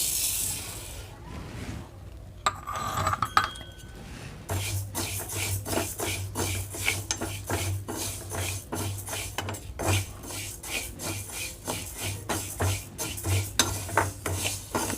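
Moong dal being dry-roasted in a pan for payasam, a steady run of close scraping and rubbing strokes with quick spoon-on-metal clinks, repeating almost continuously with no talk.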